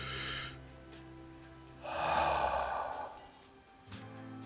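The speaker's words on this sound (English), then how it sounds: "you take that deep breath" A single deep breath drawn in through the nose and mouth, a long breathy rush that swells for about a second, with softer breathing sounds before and after and no speech.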